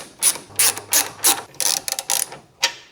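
A hand ratchet snugging bolts on a Polaris Ranger sway bar, giving several quick close clicking strokes in uneven bursts with no talking.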